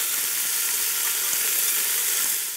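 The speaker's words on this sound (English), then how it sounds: "Just going to throw the veg in. There's the onions gone in, and the carrots," Onions, carrots and celery sizzle in a pan with oxtail juices, a steady, loud, close frying hiss that carries on without a break.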